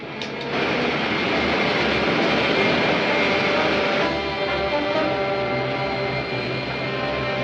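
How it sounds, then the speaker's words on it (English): Rocket ship main jets firing in an old sci-fi serial, a steady, loud roaring rush that holds for several seconds with no talk. "Fire main jets."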